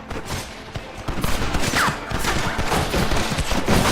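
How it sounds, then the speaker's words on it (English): A Gatling gun in the game Red Dead Redemption fires sustained rapid volleys, a dense and loud stream of shots that builds up and keeps going with little pause. "You man the Gatling gun, Marston!"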